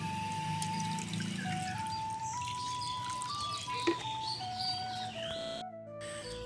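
Lime water poured into a potted plant's soil, a soft trickling pour heard close under a layer of chirping birdsong, with one brief sharper splash partway through and no one talking.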